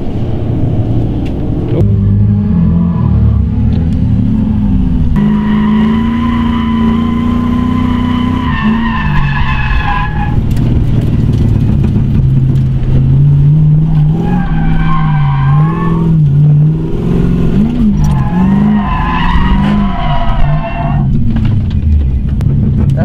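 LS-swapped Nissan S13 coupe drifting, with a loud, steady V8 engine roar, repeated revving swells and sustained tire squeal throughout, close by.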